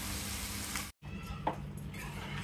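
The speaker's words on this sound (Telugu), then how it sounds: "చింతపులుసుకు కూరకు పట్టేలాగా కలుపుకోవాలి." A country chicken curry sizzles in the pan as tamarind juice is stirred in, a steady crackling hiss with a brief break and a soft clink of the spoon near the middle, with no talking.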